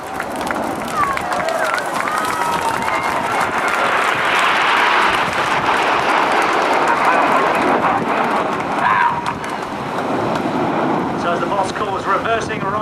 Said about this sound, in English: I heard a ripple of applause there, a ripple of cheering there.